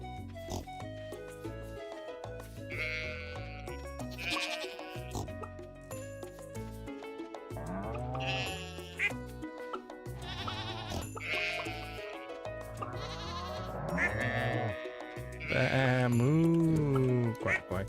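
Farm animals in Stardew Valley bleat, oink and quack in a busy run of calls over background game music, fairly loud and close, ending in a louder burst of bleating.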